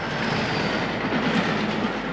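A train driven at 100 mph toward a derailed yellow test flask roars past in a dense, loud rumble with rhythmic rail clatter, filling the whole short moment without any voices.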